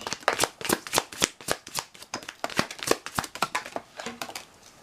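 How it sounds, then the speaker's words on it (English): A deck of tarot cards is shuffled close up in a quick run of crisp, riffling flutters that repeat rhythmically and fade toward the end. "So you had 4 cards that flipped out of the deck."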